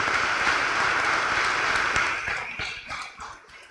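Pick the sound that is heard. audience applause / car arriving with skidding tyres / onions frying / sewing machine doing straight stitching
audience applause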